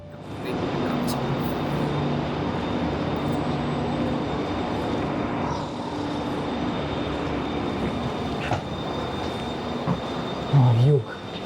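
Inside a passenger carriage on the Seoul to Daegu train, a steady loud rumble and roar fills the cabin throughout, with a brief squeal and rattle near the end.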